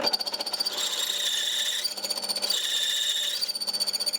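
A drill press drills into metal held in a vice, giving a steady whirring grind with two longer pushes of higher-pitched cutting and a stuttering rattle between them, loud and close.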